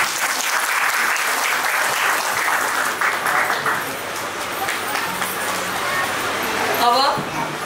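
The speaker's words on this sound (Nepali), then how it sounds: "ताली बजा।" A crowd applauding at a Christian wedding, dense sustained clapping that fades slightly over several seconds, with voices briefly audible near the end.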